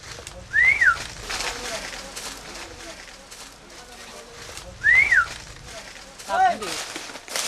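Workers on a maze-like banana farm whistle signals to each other, with three rising-and-falling whistles, fairly close, heard over background farm noise and a voice talking.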